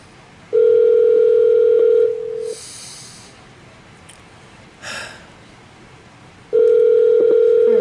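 A phone's ringback tone sounds while a call is placed: two long steady tones, the first near the start and the second near the end, each loud and close, with quiet breathy gaps between them.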